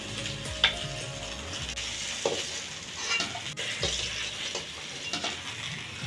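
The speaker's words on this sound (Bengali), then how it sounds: "এরপরে এই তেলেই আমি বাকি মাছগুলো একইভাবে ভেজে নেব" Steady sizzle of koi fish (climbing perch) frying in hot oil over medium heat, with occasional scrapes and clinks of a utensil against the pan.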